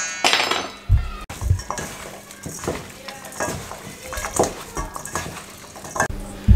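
Spiced minced meat for seekh kebabs is mixed by hand in a bowl, giving uneven squelching pats with occasional clinks and knocks against the dish, close up and fairly quiet.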